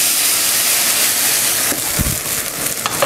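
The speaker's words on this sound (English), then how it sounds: "while it's sweating, I'm going to add just a little bit of Pernod" Pernod splashes into a hot pan of sweating onions and ham, giving a steady close broadband sizzle and hiss with a brief louder burst of spitting midway, continuous throughout.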